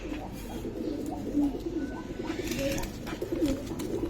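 A pair of Chila pigeons of the uncommon Chandilal breed coo in low, throaty, repeated bursts close by, over a steady background hum.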